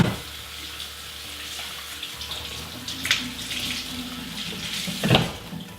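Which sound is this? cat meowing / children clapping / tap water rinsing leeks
tap water rinsing leeks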